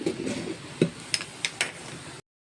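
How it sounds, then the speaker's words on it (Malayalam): Ladle back stirring boiled elephant foot yam in a cooking pot, giving a few distinct light scraping clicks and taps spaced irregularly over a soft background hiss, no talking. "തവിയുടെ മൂട് കൊണ്ട് ഒന്ന് ഇളക്കി കൊടുക്കണം."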